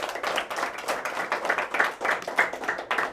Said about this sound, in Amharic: በጣም ትክክል ናት። አጨብጭቡላት።